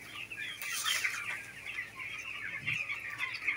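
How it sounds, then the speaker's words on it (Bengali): Chickens in a poultry shed cluck and squawk continuously after being stirred up, a dense overlapping flock chorus close by with no talking. "এই যে মুরগিগুলো একটু নাড়াই দিলাম বলে অনেক খেলাধুলা করছে।"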